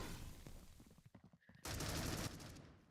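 A gunshot fired through a wall in a competitive shooter match, a dense burst of gunfire cutting in after a brief lull and holding loud for about a second before trailing off.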